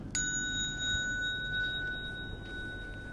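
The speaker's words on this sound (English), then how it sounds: "Then you come up only when you hear the bell." A single bell strikes once near the start during Buddhist prostration practice, its clear ringing tones sustaining and slowly fading over a low background hum.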